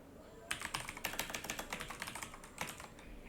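Typing on a computer keyboard while entering text into a PDF form: a quick, close run of light plastic key clicks with brief pauses, no talking.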